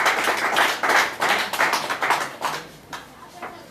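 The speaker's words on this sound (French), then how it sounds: "Quelqu'un acclame le Seigneur." A church congregation claps in acclaim of the Lord: loud, close, steady rhythmic claps over several seconds, with voices underneath, fading toward the end.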